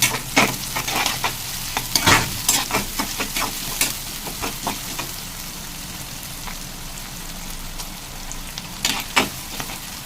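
Onions sautéing in oil for a chicken liver dish make a continuous sizzle broken by sharp, irregular utensil scrapes and taps in bursts, close and fairly loud.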